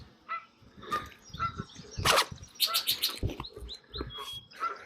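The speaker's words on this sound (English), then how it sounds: "I hear you, bird." Birds chirp in short, bright calls outdoors at Strouds Run State Park in Athens, Ohio, with several quick bursts and a nearby rustle amid quiet handling noises.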